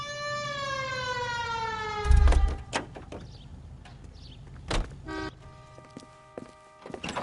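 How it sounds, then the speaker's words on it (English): A police car siren in a video game set in LA wails for about two seconds, its tone sliding downward, followed by a heavy thud and scattered clunks and clicks. "Hit the siren."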